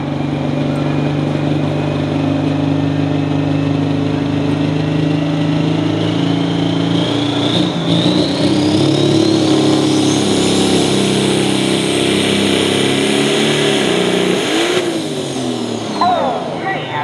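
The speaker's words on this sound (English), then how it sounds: "John Deere 8345R, a Riverside engine." A John Deere 8345R pro stock pulling tractor with a Riverside engine, called the Haymaker, roars loudly and continuously at a county fair tractor pull, its pitch climbing and shifting as the run builds, with a whine rising over the rumble.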